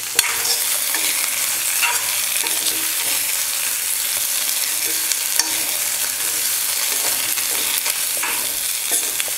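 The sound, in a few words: sautéing potatoes in oil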